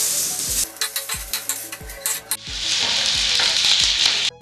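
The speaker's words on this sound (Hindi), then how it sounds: "प्याज को हम कलर चेंज होने तक भूनेंगे।" Onions sizzle in a hot pan as they are fried for a Malvani chicken masala paste. A spatula scrapes and taps the pan in a quick rhythm, then a loud, continuous frying hiss takes over.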